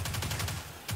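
Rapid automatic gunfire in Destiny, a short close burst of repeated shots pulsing at a quick steady rhythm.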